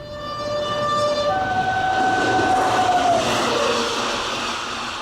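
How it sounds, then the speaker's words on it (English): A train horn sounds in long sustained tones as the train approaches over a bridge, its rumbling roar swelling to a peak and then easing slightly, heard alone without talk. "No, but there's a train coming."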